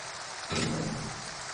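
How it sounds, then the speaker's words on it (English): Rain in the video game Two Worlds swells suddenly into a loud, dense hiss that rises to a peak and then settles into a steady downpour, heard alone with no voices. "Ah, rain."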